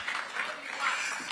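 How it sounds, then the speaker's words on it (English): An audience at a National Mining Dialogue event breaks into a brief, dense wash of applause, steady and moderately loud, with voices blending into the clapping. "A round of applause for her, please."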